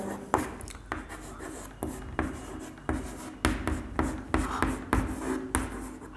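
Chalk scratching on a blackboard during a Hindi-language chemistry lesson on chemical reactions and equations: steady, rhythmic strokes and taps, close and fairly loud, with no talking.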